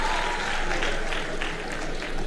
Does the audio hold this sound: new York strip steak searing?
no